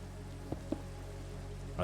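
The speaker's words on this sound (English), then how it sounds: "why is it literally always raining?" Rain falls in the Minecraft video game, a faint, even hiss over a low hum, broken by a couple of small soft taps.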